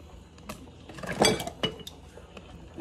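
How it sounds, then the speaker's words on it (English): Meat being stirred in a cooking pan for a meat pasta sauce, with a few metallic utensil scrapes and clinks against the pan, one louder clatter in the middle, fairly close and moderate. "I need to stir that meat up."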